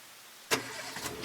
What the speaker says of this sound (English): He entered his car, revved it to life, and wheeled out of his driveway